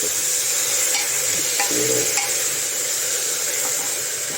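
Moong dal daliya with vegetables being stirred and fried in a pan, giving a steady close sizzle with scraping spoon strokes throughout.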